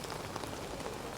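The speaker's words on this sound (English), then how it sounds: "Back into the rain." Steady rain falls during a walk through central London in November, a dense, even patter of drops on surfaces and pavement that stays close and continuous, with no voices.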